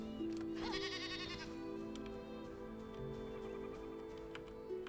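A goat in the video game Enshrouded gives one short, wavering bleat inside a house, set against a steady droning game ambience with faint ticking.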